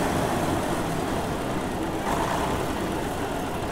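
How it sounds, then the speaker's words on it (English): A tractor's diesel engine running steadily in Farming Simulator 2015, a constant mid-low rumble holding at even loudness with no voices. "And now the diesel's starting up"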